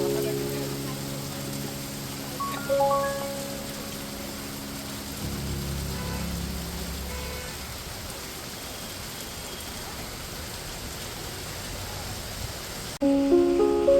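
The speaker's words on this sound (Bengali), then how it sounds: "দেখি ভীষণ জোরে বৃষ্টি নেমে গেল" Heavy rain pours during Durga Puja in South Kolkata, a constant broad wash of falling water with faint voices and tonal sounds layered over it early on.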